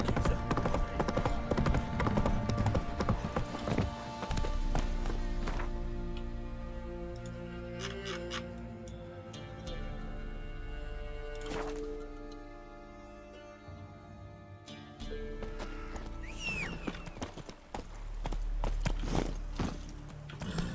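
Roach, the horse in the video game The Witcher 3, trots with steady clip-clop hoofbeats that fade in the middle and return strongly at the end, layered over rich game music and ambience.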